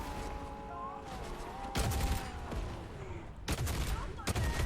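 Crackling bursts of fireworks in a video game pop and rumble in irregular clusters over a noisy background, with a couple of sharp louder bangs toward the end.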